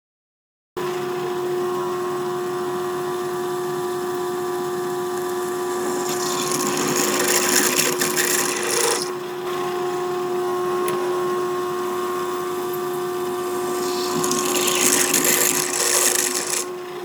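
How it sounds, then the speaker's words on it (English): A bandsaw fitted with a 1/8-inch wood-cutting blade saws out a piece of 1/4-inch aluminum, giving a steady close motor whine with a constant hum, rising into two louder, harsher cutting bursts as the blade bites into the metal. "I'm cutting it out on my bandsaw using a 1/8-inch blade."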